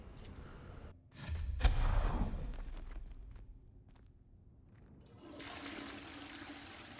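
A toilet flushes inside a room in the video game Hogwarts Legacy, a loud rushing swirl of water that surges and then drains away, followed by a softer hiss of refilling.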